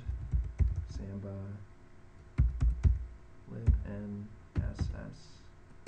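Quick bursts of typing on a computer keyboard while a Linux package-install command is entered, clicky keystrokes clustered in short runs with pauses between, close by with a voice speaking over parts of it.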